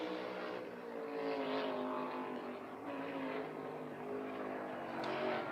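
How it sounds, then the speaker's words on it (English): A NASCAR race car engine during qualifying, a loud roaring whine whose pitch rises and dips as it shifts gears. "It sounded like he was either shifting right there."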